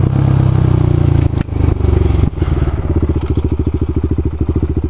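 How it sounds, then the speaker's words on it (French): A KTM 690 Duke single-cylinder motorcycle modified in cafe racer style runs close up, its engine throbbing in a rapid, lumpy beat, with brief dips as the throttle changes and a settled pulsing toward the end. "Voilà donc la KTM 690 Duke en café racer."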